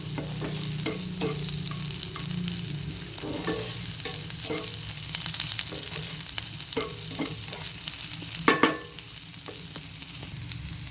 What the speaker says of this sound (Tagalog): Stir lang natin. Let's wait until maging brown.